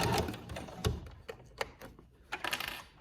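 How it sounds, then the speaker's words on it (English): A sewing machine stitches around the edge of fabric in quiet, uneven bursts of rapid mechanical clatter with small ticks and pauses between runs. "I'm just gonna sew all the way around."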